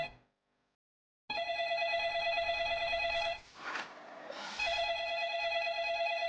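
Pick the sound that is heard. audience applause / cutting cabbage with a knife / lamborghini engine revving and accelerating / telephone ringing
telephone ringing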